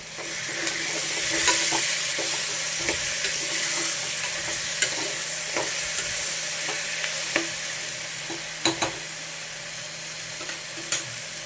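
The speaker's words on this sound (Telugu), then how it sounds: "ఇందులో ఇప్పుడు మనం అల్లం వెల్లుల్లి పేస్ట్ వేసి కలుపుదాం" Vegetables for vegetable rice fry in oil with ginger garlic paste, a steady close sizzle running throughout while a spoon occasionally scrapes and taps the pan.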